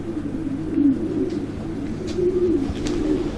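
A young racing pigeon hen coos softly and close by in a few low, rolling phrases, with faint background noise behind them.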